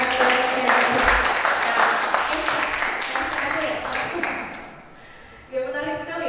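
An audience at a dance-film discussion forum claps after a talk: a dense burst of applause that thins and fades near the end, with voices around it.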